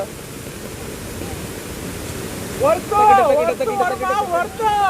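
Goyar waterfall near Karwar in the monsoon gives a steady broad rush of falling water, constant and moderately loud, with someone talking over it in the second half.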